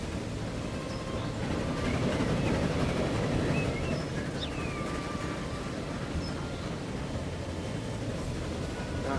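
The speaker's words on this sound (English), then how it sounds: "Let's go ahead and ride aboard this train." Onboard rumble of a train riding along the line in Transport Fever 2, a steady low rolling drone with faint squeals and clicks, continuous throughout with no voices.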